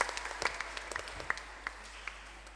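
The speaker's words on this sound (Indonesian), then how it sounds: "Kita beri tepuk tangan untuk SDK Baktiarsa." Brief, fairly quiet applause for a primary school team at a school science quiz final, scattered claps from a modest audience lasting a couple of seconds.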